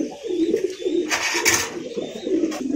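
Black Bombay pigeons coo softly in a cage, low rolling calls repeating close by with faint chirps and cage noise around them.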